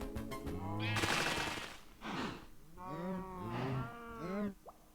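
Minecraft cows moo several times in a row, drawn-out low calls that rise and fall close by, with a voice talking over them at the start.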